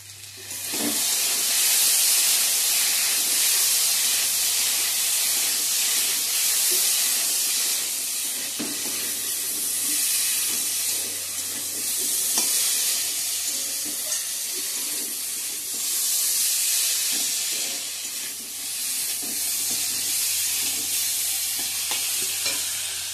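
Ground coriander, cumin and chilli powder fry in a pan with a loud, continuous sizzle, and a utensil scrapes and stirs them the whole time, with no voices.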